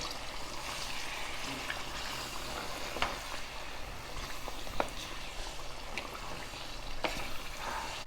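Mutton sautéed with masala in a pan gives a steady, close frying sizzle throughout, with a few sharp clicks of a spoon against the pan now and then, with no voices.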